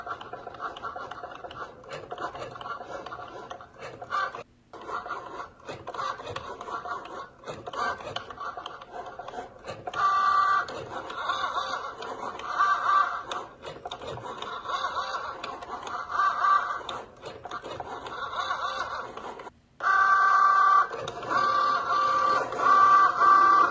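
A Cricut Joy cutting machine fitted with a pen drawing custom labels, giving a whirring, buzzing motor sound with short stuttering movements; it stops briefly around five and twenty seconds, then resumes louder.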